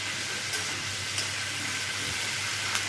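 Pre-fried meat tipped into a hot pan with salt, a soft steady sizzle and hiss running throughout, with a few brief clinks of a utensil and no talking.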